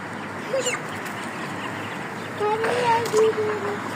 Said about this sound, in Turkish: Bunlar da sası tavuklar arkadaşlar.